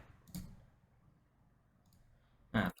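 Two sharp, distinct mouse clicks, spaced about two seconds apart, sound close and isolated in a quiet room as a font is right-clicked in Unity.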